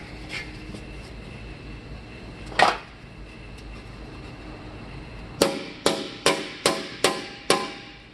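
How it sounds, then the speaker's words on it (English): A hammer beats an aluminum breastplate into shape, with one isolated ringing strike followed by a quick run of six sharp metallic blows, close and loud against a quiet room. "you just want to beat it in the middle where you want it to stick out a bit"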